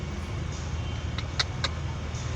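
Road traffic with passing cars near a fair in Davao, Philippines, a steady low engine rumble with a few brief higher whooshes or squeaks from vehicles going by, no talking.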